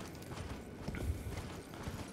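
Horse hooves gallop in the video game Elden Ring, a fast muffled clip-clop rhythm over a low rumbling game backdrop, steady and moderately loud, with no talking.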